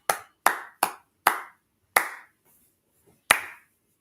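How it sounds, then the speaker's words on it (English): Several sharp hand claps ring out in an uneven sequence, five quick ones then a sixth after a pause, opening a church meeting, close and crisp with silence between. "Let us open up our meeting, first of all, by clapping our hands"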